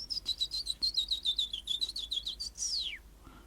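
A human voice whistles an imitation of a chaffinch call, a quick run of about a dozen high chirps ending in a descending flourish, close and fairly soft.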